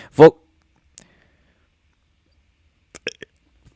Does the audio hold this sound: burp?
yes